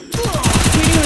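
Rapid automatic gunfire in the Free Fire video game rattles off in a fast, even burst of loud, close shots, with no voices over it.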